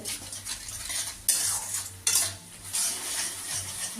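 Boiled potatoes stirred into spiced masala in a pan, a soft sizzle under scraping and clinking of a spoon against metal, with a couple of louder scrapes, no one speaking.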